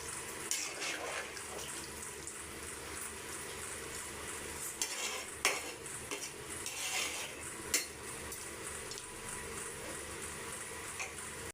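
Chennai-style duck curry meat simmers in water in a pot while a utensil stirs and scrapes against it, a steady wet bubbling bed broken by occasional metallic clinks, close and moderately quiet.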